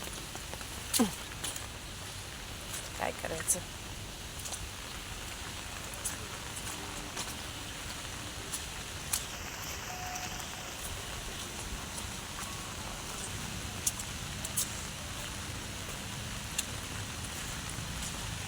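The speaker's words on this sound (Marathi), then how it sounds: "खूप पाऊस पडतो" Heavy rain falls steadily outdoors among trees near a filling lake, a constant dense hiss with scattered louder drops and splashes; a person speaks briefly.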